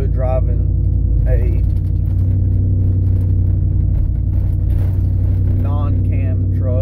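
Pickup truck with a stage 4 cam and factory stall torque converter driving and slowing, its loud lumpy idle rumble steady and close throughout while someone talks over it.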